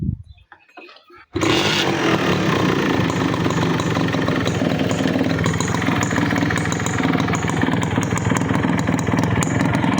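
A 1993 Honda CDI motorcycle engine starts after a brief quiet moment and then runs loud and close, holding a steady, rough idle with a rapid rhythmic pulse to the end.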